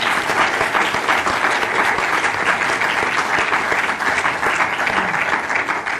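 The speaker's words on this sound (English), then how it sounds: "if we start with an applaud for all nurses internationally" A room of workshop attendees applauding for nurses, dense sustained clapping throughout, loud and close.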